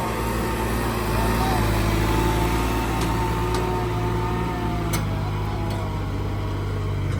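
A small tractor engine drones steadily throughout at a constant pitch, close by, with a few faint clicks over the hum.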